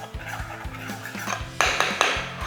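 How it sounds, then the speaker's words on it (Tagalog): A breading mix of all-purpose flour, cornstarch and smoked paprika is stirred in a bowl, giving close, rhythmic scraping strokes with sharp clinks of utensil against the bowl. "Haluin lang natin ng mabuti."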